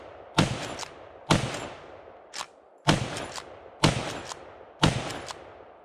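A .50-110 lever-action rifle fires at a level IV armor plate outdoors: six loud, sharp shots at roughly one-second intervals, one noticeably quieter, each followed by a short decaying echo.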